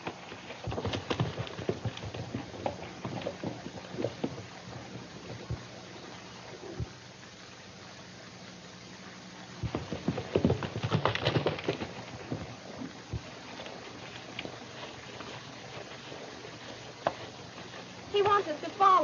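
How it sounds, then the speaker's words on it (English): A horse's hooves clip-clop in an uneven rhythm, loud at times and fading at others, while people talk over them in a 1932 western film. "It's Tarzan, Bill's horse."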